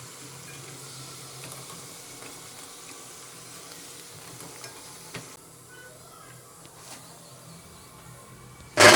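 Chicken 65 pieces sizzle steadily in hot oil, a close, continuous frying hiss with a few faint clinks and a sharp knock at the very end.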